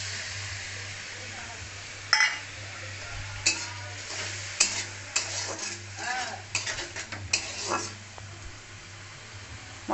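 Spice paste of cumin, coriander and turmeric powder mixed with water, frying for a brinjal curry. A soft steady sizzle runs under repeated sharp clinks and scrapes of a spoon stirring in the pan.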